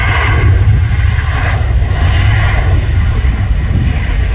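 Emirates Airbus A380 landing at Guarulhos airport, a loud, steady, broad engine roar that holds throughout, with a strong low rumble and no talk over it.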